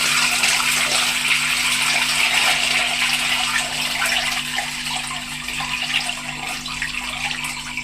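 Wild vegetables being washed in clean water in a vessel, giving a steady, continuous swish and splash of running and sloshing water close by, with no talking.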